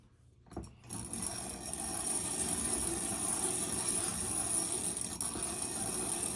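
A cast iron piston ring is ground to gap on a small grinder, a continuous high whirring scrape that starts after a brief clatter and holds steady and close throughout.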